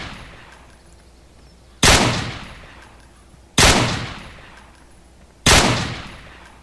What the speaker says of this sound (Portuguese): mas eu vou dar uns tiros